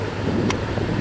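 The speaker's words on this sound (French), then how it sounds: "Il y a du vent, par contre." Wind blows hard at the seaside on a summer holiday, a loud, steady rumbling buffet across the microphone with a brief gusty burst midway.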